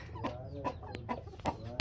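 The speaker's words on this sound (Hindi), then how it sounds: "ये लेकिन माशाल्लाह फार्म अच्छा बना हुआ है हमारा, माशाल्लाह बहुत अच्छी मुर्गियां हैं।" Aseel hens on a farm give short, irregular clucks, several bursts spaced across a couple of seconds, fairly close and with no talking over them.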